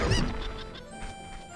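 Game chickens from The Legend of Zelda: Ocarina of Time clucking and squawking in Kakariko village, with a loud burst of squawks at the start followed by fainter repeated clucks.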